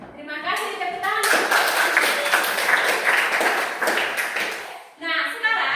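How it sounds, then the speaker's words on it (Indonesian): Applause from a group fills most of the stretch as a dense, loud patter of clapping hands, with a voice speaking briefly before it starts and again as it fades out, during a Catholic religious education class session. "Terima kasih, tepuk tangan."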